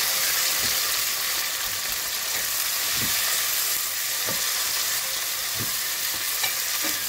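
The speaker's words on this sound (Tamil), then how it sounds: "இது கொஞ்சம் வதங்கட்டும்" Cut medium-sized tomatoes sauté in a pan with a loud, even, close sizzle and a few faint taps from stirring throughout.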